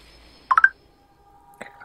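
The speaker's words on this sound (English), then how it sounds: "these notifications, Snapchat notifications, need to turn off" Snapchat notification sounds on a phone: a quick bright triple chirp, then a second, shorter chime about a second later. A faint tone lingers between them in an otherwise quiet room.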